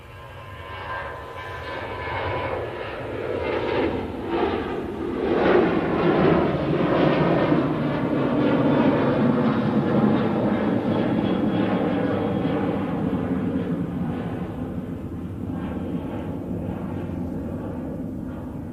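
A Ryanair Boeing 737-800 rolls down the runway at Manchester bound for Girona, its engine roar building steadily to a loud, sustained rumble that holds and slowly eases, with no voices over it.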